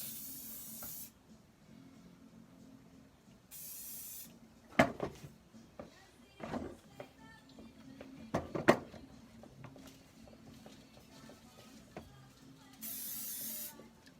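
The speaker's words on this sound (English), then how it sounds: "And then we're just gonna follow her up with some hairspray." Hairspray hisses from an aerosol can onto hair, coming in a few short bursts of a couple of seconds each, separated by quieter handling sounds and light knocks.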